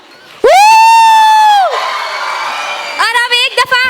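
Children in a competition group erupt in a sudden, long, loud collective yell, followed by rougher crowd noise and a few short excited shouts near the end.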